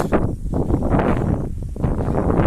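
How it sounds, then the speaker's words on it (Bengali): Strong wind buffets the microphone in rough, roaring gusts that rise and dip throughout. "প্রচুর বাতাস হচ্ছে।"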